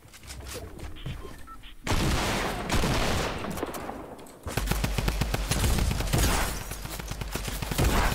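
Rapid video-game gunfire, including blasts from a golden shotgun, comes in dense loud bursts that start abruptly and keep going, with a brief quieter stretch before the shooting picks up again and continues to the end.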